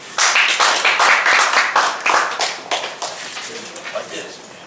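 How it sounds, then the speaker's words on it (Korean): An audience in a history lecture hall clapping to welcome a lecturer, a loud close burst of many hands that tapers off after about three seconds as a voice begins. "뜨거운 박수로 환영해 주십시오."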